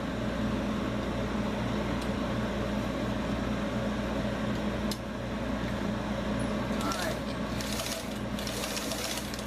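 A sewing machine runs a zigzag stitch on a slipper, a steady close mechanical whir with rapid rhythmic needle patter throughout, with a few sharp clicks and brief louder rustling toward the end.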